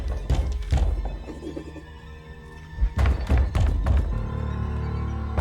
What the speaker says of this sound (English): Someone's banging at the cellar door and won't stop.